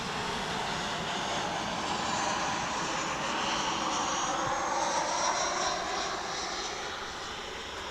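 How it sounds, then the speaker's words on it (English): An American Airlines jet wearing the special TWA Heritage livery, arriving from Detroit at DFW International Airport, roars steadily and loudly with broadband engine noise that holds for several seconds and then eases slightly. "Here comes American flight 1108 coming in from Detroit."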